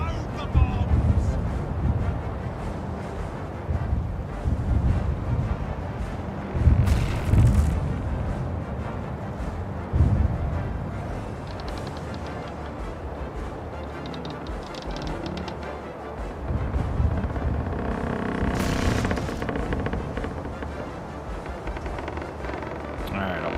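Shipboard cannon fire aimed at pirate ships in the naval game Caribbean Legend: a few heavy booms break out over a constant rush of wind and sea, with a voice talking along the way.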